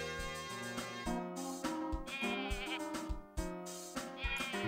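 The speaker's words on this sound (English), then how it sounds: "I'm gonna get away from the sheep because it's really annoying." Sheep bleat repeatedly in the video game Rocket: Robot on Wheels, a nasal electronic cry repeating in quick succession, loud and close, with no talk over it.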